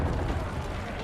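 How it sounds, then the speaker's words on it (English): A grenade blast in the video game Resident Evil 4 Remake, a dense, rumbling boom filling the whole short moment and fading slightly at the end. "And then hit him with the grenade."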